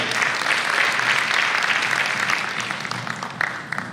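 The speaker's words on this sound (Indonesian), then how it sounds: "Sekali lagi boleh ada tepuk tangan yang paling meriah untuk Gubernur DKI Jakarta" An audience at a national church work conference in Jakarta gives the Jakarta governor a burst of steady, crackling applause. The clapping stays strong, then thins and tapers over about four seconds.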